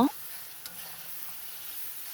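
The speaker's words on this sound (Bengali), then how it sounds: "এখন ভালো করে নেড়ে চেড়ে পেঁয়াজটাকে মানে ভাজা ভাজা করে নেব" Onions fry in oil with cinnamon sticks, cardamom pods and a bay leaf; a quick clatter of stirring opens, then a soft, steady sizzle continues, with one light tap partway through.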